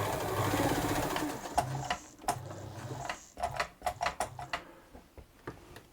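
A Bernina 117L sewing machine with a Sotric motor runs a straight stitch, a steady mechanical whir for about two seconds that then breaks into short, irregular clicks and taps, close and moderately loud, with no talking.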